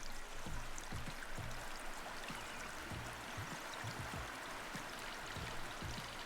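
Water streaming and trickling in the video game Plentiful, a continuous soft rushing flow with faint, rhythmic low thumps beneath, no voices.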